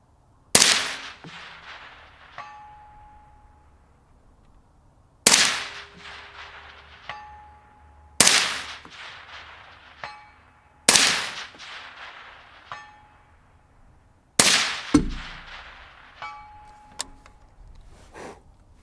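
A Mk12 Mod 0 SPR rifle fires five unsuppressed shots at a slow, steady pace, each sharp crack followed a moment later by a faint ringing clang from a distant steel target.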